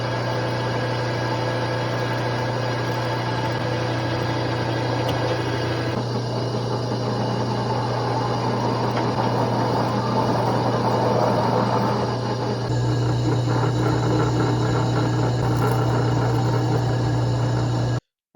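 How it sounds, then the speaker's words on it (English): A lathe cuts aluminum round stock for a turbo Civic catch can with a steady, loud mechanical drone and humming motor, the cutting texture shifting partway through and again later, continuous and close with no voices. "got these cut up in the lathe there"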